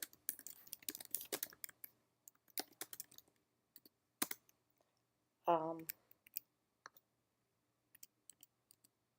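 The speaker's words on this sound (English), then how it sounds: "I don't type very well, as you see." Computer keyboard typing in irregular bursts of close, crisp key clicks with pauses, one short voiced sound partway through.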